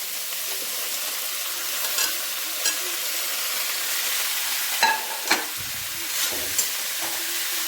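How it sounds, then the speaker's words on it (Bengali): Cauliflower frying in leftover oil with salt and turmeric, a soft steady sizzle with a few scattered utensil knocks and stirring scrapes, no voices. "এই কপিটা ভাজা বাকি যে তেলটা রয়েছে তার মধ্যে দিয়ে দেবো, দিয়ে নুন আর হলুদ দিয়ে ভেজে নেব।"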